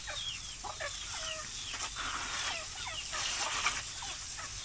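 Several farm chickens cluck and call in short, overlapping bursts at moderate distance, steady throughout over a constant background hiss, with no talking.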